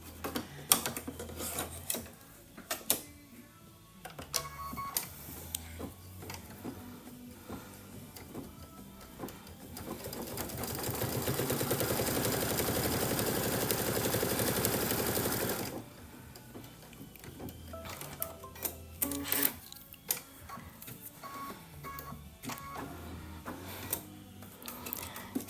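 Embroidery machine stitching fabric for a Kimberbell mug rug, rapid mechanical ticking and clattering of the needle, rising into a steady dense whir for several seconds in the middle before returning to intermittent clicks and knocks.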